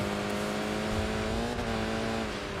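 A racing car's engine holds steady in third gear in Enthusia Professional Racing, giving a loud, continuous, close drone with stable pitch for a few seconds and no voices.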